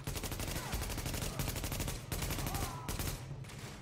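Rapid automatic gunfire in The Division during a raid on Madison Square Garden, dense repeated shots in long bursts with brief pauses, loud and close.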